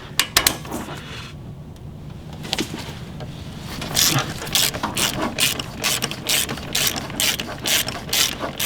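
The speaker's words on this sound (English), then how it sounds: "take your ratchet, remove this one" A ratchet turns out an AC system bolt on a 2003 Chevy S10, first a few scattered clicks, then a steady run of loud, close metallic ratcheting clicks.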